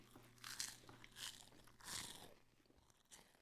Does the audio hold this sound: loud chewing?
yes